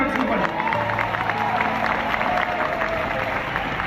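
An audience clapping at a product launch mega event in Haridwar: dense, steady applause from a crowd filling the whole stretch, with a voice mixed in beneath it.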